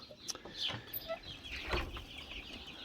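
Birky chicks cluck softly and intermittently in a quiet coop, with scattered chirps and small rustling sounds nearby.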